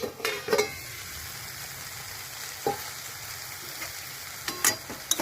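Gima greens frying in a pan after being uncovered, a steady background sizzle punctuated by several sharp spatula scrapes and taps against the metal.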